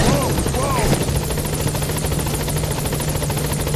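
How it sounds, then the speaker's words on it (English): Support helicopter arriving in the video game Metal Gear Solid V, a steady loud rotor chop holding throughout with a constant low hum beneath and brief radio-style voices near the start. "Support helicopter has arrived."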